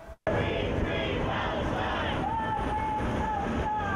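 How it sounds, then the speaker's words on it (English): A crowd of about 100 protesters supporting Palestine chants and cheers loudly outdoors on a street corner, voices massed together in a continuous roar. "a large protest with chants and cheering ringing out in support of Palestine"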